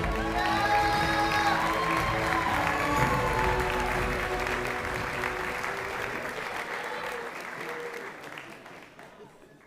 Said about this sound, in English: Alrighty, another round of applause, please.